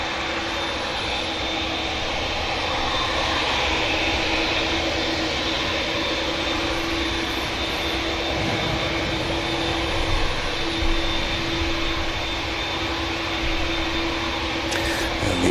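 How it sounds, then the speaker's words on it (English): An Aer Lingus Airbus A321neo airliner touches down at Manchester Airport on arrival from Dublin, heard as a steady, fairly distant broadband jet roar with a constant engine whine that holds through the whole stretch and swells slightly near the end. "Lingus 321 Neo just touching down from Dublin."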